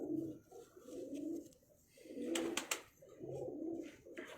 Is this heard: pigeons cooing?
yes